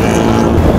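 Strong wind buffets the microphone during an outdoor road cycling race, a loud continuous low roar and rumble with no break, heavy and close.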